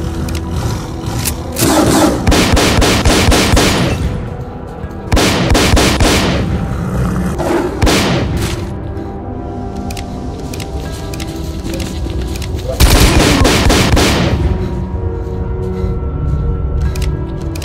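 Repeated bursts of automatic gunfire rattle in S.T.A.L.K.E.R. Call of Pripyat during a battle, loud and close, in several long volleys separated by brief lulls.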